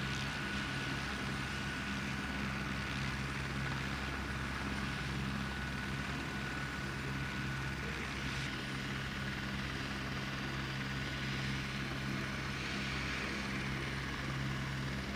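A helicopter's steady rotor and engine roar, continuous and fairly distant, without voices; the landing itself does not stand out.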